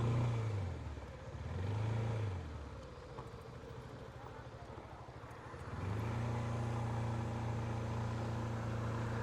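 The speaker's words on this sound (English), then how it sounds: "Oh, was like a new Mustang or an old one?" A Ford Mustang passes on a countryside road, its engine rising loud and close, fading to a steady low rumble, then swelling again as it goes by.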